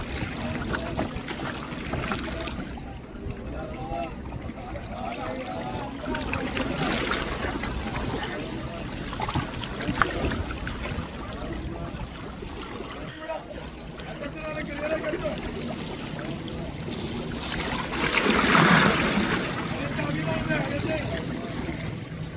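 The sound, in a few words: fishermen hauling net from small boat on water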